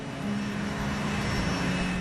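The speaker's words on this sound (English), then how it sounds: "The Boeing 737NG, recently acquired by Kenya Airways, is the newest generation of twin-engine commercial jets." A Boeing 737NG twin-engine commercial jet of Kenya Airways: a steady, loud broadband engine roar with a constant low drone, holding even and unbroken throughout, with no talking.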